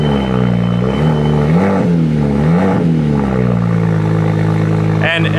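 A car engine idles loudly nearby, its exhaust rumbling and rising in a few swells of revving before settling.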